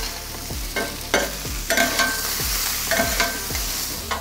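Onions fry on a plancha at a cheesesteak cookout, giving a constant close sizzle punctuated by a regular series of metallic scraping and tapping strokes from a spatula, with no voices.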